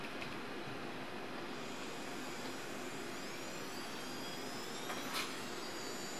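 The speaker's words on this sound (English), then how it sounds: "Now let's spin the motor up." A small electric motor driven by an angular position sensor's output spins up, giving a faint, steady whirring hum with a thin whine rising above it.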